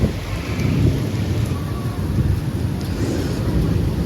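Heavy thunderstorm rain pours steadily and loudly throughout, with a deep low rumble of thunder running underneath the constant hiss.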